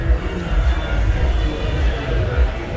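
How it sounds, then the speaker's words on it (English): A large crowd gathered outside Tito's on Tito's Lane, the famous party street in Goa, at night in 2021: a dense, steady murmur of many voices and street noise, loud and close throughout. "There's a big crowd here trying to get in"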